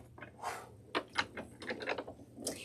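A Spellbinders BetterPress letterpress plate runs slowly through a die-cutting machine, giving a series of soft clicks, clunks and mechanical rattles at close range with no speech.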